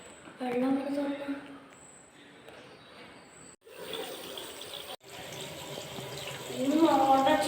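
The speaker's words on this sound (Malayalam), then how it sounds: "വെള്ളം തുറന്നു." Water runs from a household tap in a steady broadband rush that starts partway through, with voices talking over the stretches before and after the flow.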